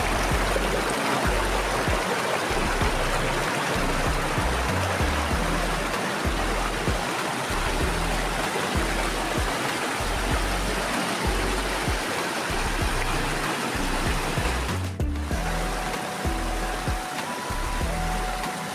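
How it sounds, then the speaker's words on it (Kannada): Moyar river water flowing steadily near the Karnataka–Tamil Nadu border by Bandipur and Mudumalai, a dense continuous rush and gurgle close by with no voices. "ಕರ್ನಾಟಕದ ದಕ್ಷಿಣದ ತುತ್ತ ತುದಿ ಅಂದರೆ ಅದು ಮೋಯಾರ್ ನದಿ ಅಂತ ಹೇಳ್ಬೋದು."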